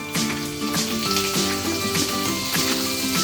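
Finely chopped ginger and garlic sizzle in hot oil in a pan while cooking a tomato chutney, a dense, steady crackle with light pops throughout; close and without talk.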